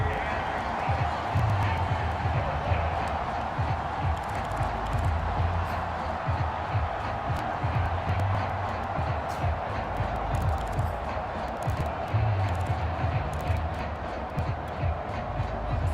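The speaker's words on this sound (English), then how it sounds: "How about some applause for the defense there?" A stadium crowd in an American football video game keeps up steady applause and cheering, a dense, continuous roar of clapping that holds at an even level throughout.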